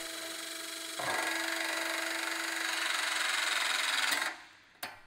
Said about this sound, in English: We're using punch riveting technology.